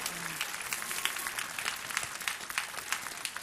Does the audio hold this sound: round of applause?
yes